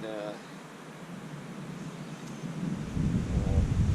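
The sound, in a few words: wind blowing at campsite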